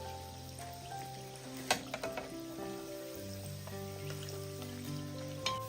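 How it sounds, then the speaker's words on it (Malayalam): Snacks deep fry in hot oil with a soft, continuous bubbling sizzle, quiet and steady beneath tonal background music, with a few light clinks near the start and end. "ബാക്കിയുള്ളതും ഇതുപോലെ തന്നെ നമുക്ക് ഫ്രൈ ചെയ്തെടുക്കാം."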